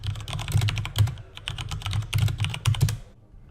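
A product key being typed on a computer keyboard, a close run of brisk irregular keystrokes in quick bursts that slows and stops near the end, with no voices.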